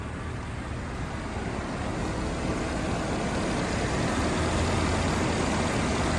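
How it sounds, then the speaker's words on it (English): A 2009 Hummer H2 SUV engine idles smoothly and steadily at close range, a constant low hum with no one speaking. "Nice and smooth, quiet engine as it's still running."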